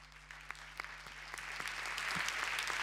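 An audience at a public television gathering breaks into applause, a dense patter of clapping that grows steadily fuller and louder over a few seconds.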